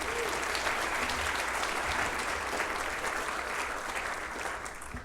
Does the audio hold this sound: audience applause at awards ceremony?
yes